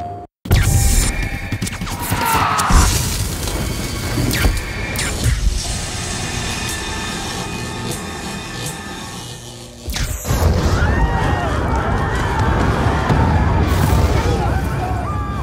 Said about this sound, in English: game opens with this really awful, devastating explosion